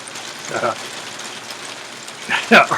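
Rain falls steadily onto an outdoor railing in northern Ontario, a constant close patter throughout, interrupted by two short bursts that sound like voices.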